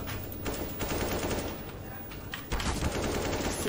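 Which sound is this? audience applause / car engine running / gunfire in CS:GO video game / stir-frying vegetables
gunfire in CS:GO video game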